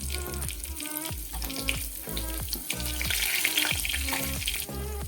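Garlic drops into hot oil for a sambar tempering, crackling and sizzling steadily with a run of sharp pops over a bubbling bed, close and fairly loud, no voices.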